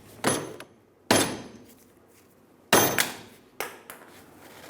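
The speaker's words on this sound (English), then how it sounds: "I can probably just hit it with a hammer." Several sharp hammer blows driving a track bar bushing into a 2003-2009 Dodge Ram 2500, four heavy strikes on metal spaced unevenly with a short ringing decay after each, plus a lighter tap near the end.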